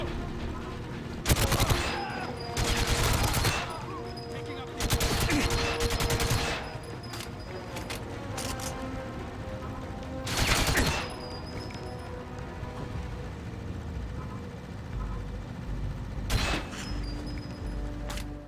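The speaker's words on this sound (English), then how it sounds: "It's a fairly standard gunfight against Trevelyan's men." Gunfire from GoldenEye crackles in several loud bursts during a gunfight against Trevelyan's men, with rapid shots in clusters separated by brief lulls and a few isolated reports.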